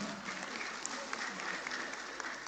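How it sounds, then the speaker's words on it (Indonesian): An audience at a formal Sundanese community gathering claps together in steady, dense applause that fills the room evenly throughout, with no one speaking. "Tepuk tangan."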